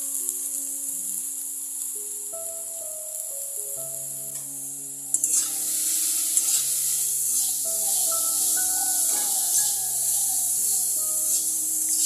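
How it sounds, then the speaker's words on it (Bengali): Grated carrot drops into hot ghee and refined oil and breaks into a bright, hissing sizzle about halfway through. Before that, only soft background music plays, and it keeps going under the frying. "ঘি রিফাইন্ড তেল গরম হয়ে যাওয়ার পর আমি এতে দিয়ে দিলাম পুরো গাজরটা"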